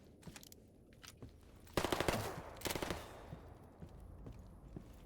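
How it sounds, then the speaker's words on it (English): Gunfire from a 20 gauge shotgun in a video game, with two loud blasts in quick succession followed by softer rattles and footstep-like clicks, with no talk. "But it's a gun."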